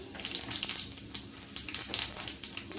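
Cumin seeds, a tablespoon dropped into hot oil, crackle and sizzle loudly and close, a dense spitting hiss with rapid pops throughout, no voices.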